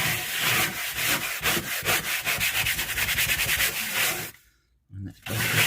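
Scrubbing brush working cleaner into a van dashboard, a loud, close, rhythmic back-and-forth scrub that stops for about a second before a final burst.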